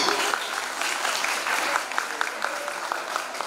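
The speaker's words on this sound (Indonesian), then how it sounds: "tepuk tangan untuk paslon 2" Students applaud candidate pair 2 at a madrasah student council debate: a continuous patter of many hands clapping in an indoor hall, fairly loud, with faint voices mixed in.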